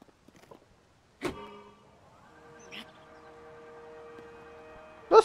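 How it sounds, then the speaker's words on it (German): A makeshift motorboat driven by an attached fan in Zelda: Tears of the Kingdom starts with a few sharp clicks and thumps, then settles into a steady, fairly quiet whirring hum. "Und schon habe ich ein Motorboot."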